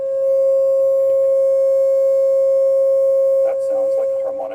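A sustained pure tone at 540 Hz, the pentagon tone in a frequency-and-form demonstration, humming steadily throughout while a voice talks over its final second.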